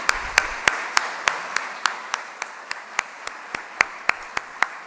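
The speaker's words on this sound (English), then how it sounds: "Let's give them a big hand." Applause during the opening session of a college professional development day: steady, evenly spaced claps that sound like a single clapper or a thin audience, crisp and moderately near, with no voices.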